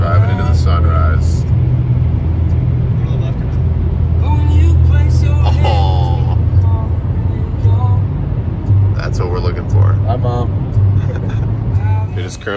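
A car cruises along a highway on a long spring-break road trip at sunrise, its steady, close low rumble of engine and road noise continuing throughout with faint voices and sounds inside the cabin.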